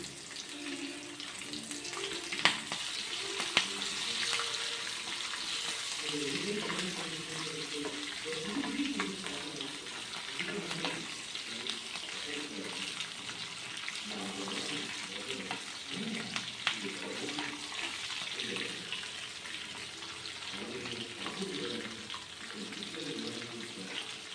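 Black pepper, cumin seeds, green chili and ginger frying in a pan for Kanchipuram rava pongal, a soft steady sizzle with light stirring scrapes running throughout, close and moderately quiet.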